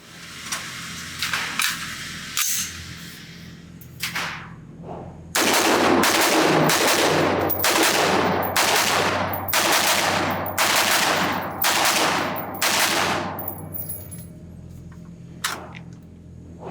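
Rapid semi-automatic fire from a Blackout Defense Quantum Mk-2 AR-15 rifle at a shooting range, with a few spaced shots followed by a loud, fast string of around ten close cracks.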